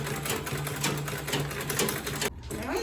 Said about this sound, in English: So when I get to this part, I'm going to backstitch again.